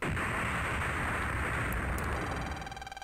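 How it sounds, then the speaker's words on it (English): A loud, sustained explosion from the video game Mega Man Battle Network 2 roars as a dense, rumbling blast for several seconds, then breaks into a short run of pulsing electronic bursts as it fades. "3 seconds until explosion"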